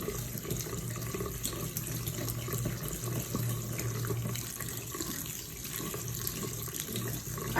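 Kitchen water tap running steadily into a sink while salted cucumbers are rinsed in a bowl; a constant close splashing stream, moderately loud, with no talking.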